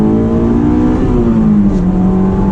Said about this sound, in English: this car just sounds stunning going up to that, once that VTEC kicks in, going to the red line